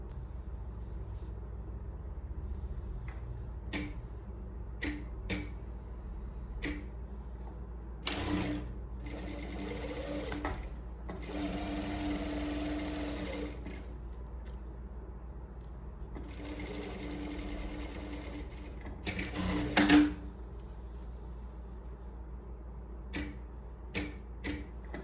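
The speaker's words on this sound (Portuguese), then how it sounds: "alinhando o pezinho da máquina, calcador, e passando a costurinha de um pé de máquina em cada lado desse risco" A sewing machine stitches a fabric tea placemat in several short runs and one longer run, each a steady mechanical whir, separated by quiet pauses and small clicks from adjusting the presser foot.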